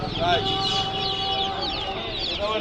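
Chickens and ducklings cluck and chirp continuously in a busy village poultry market in Nepalganj, with overlapping bird calls and faint background voices.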